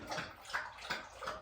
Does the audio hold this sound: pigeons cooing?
no